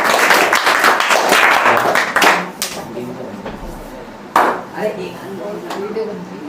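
A small group claps at a class 10 result celebration, with dense, sharp claps that thin into scattered isolated claps and then a brief renewed burst. Voices talk over the clapping.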